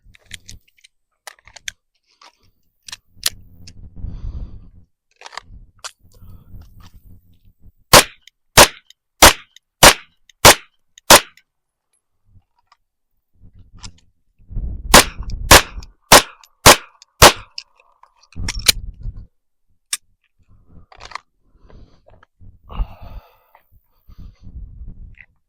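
Pistol shots fired at a target on a shooting range, in two rapid strings of about six sharp, loud cracks each, with scattered quieter clicks, handling and movement noise before and between the strings.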